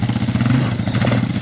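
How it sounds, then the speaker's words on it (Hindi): A quad bike engine revs steadily and pulses close by as it spins in donuts, a buzzy, throbbing motor note with light clatter throughout. "वो मैर क्वाड बाइक पे डोनट्स कराने की कोशिश कर रहा है"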